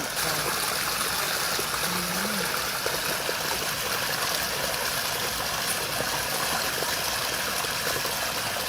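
Steady water flowing in, a continuous broadband rushing and trickling that holds an even level throughout with a faint low hum beneath and no voices.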